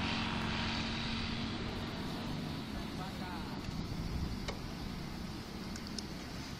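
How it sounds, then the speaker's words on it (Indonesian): A low, steady engine drone from an aircraft passing over a beach, heard at a distance beneath wind and background noise, with people talking. "Itu kah pesawat di sini?"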